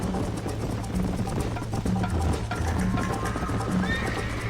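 Horse galloping in the video game Red Dead Redemption, a loud, continuous drumming of hooves with neighs breaking through at intervals.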